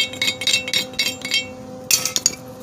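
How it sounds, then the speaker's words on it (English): A chipping hammer strikes a flux core weld bead about nine times in quick, sharp metallic clinks, close and crisp, knocking off the slag crust with no talk. "get your chipping hammer in there, kind of chip the main crust off of it"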